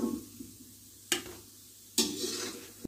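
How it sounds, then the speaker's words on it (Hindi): Gulab jamun frying in hot oil and being stirred with a spoon, a soft continuous sizzle broken by two distinct sharp scraping strokes and a final clink. "इसी तरह से हम दूसरे भी फ्राई कर लेंगे।"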